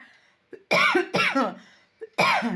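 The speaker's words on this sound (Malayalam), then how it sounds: "ചുമ" A person coughs several times in short, harsh bursts, with brief pauses between them, close and fairly loud.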